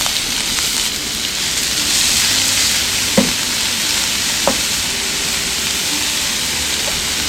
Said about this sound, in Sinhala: දැන් එකතු කරගන්නවා කපාගත්ත ලුණු ටික